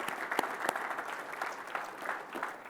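A brief round of audience applause at a talk, a dense patter of many hands clapping at moderate, slightly distant volume.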